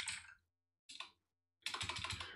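Bursts of typing on a computer keyboard, three clusters of quick key clicks separated by short pauses, close and fairly quiet with no talking.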